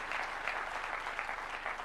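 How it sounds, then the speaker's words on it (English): Audience applause honoring a bank official at a housing event at Alliance High, a steady, dense patter of clapping hands throughout, moderately close and unbroken. "Please, round of applause to this great lady, Madam Kimtai."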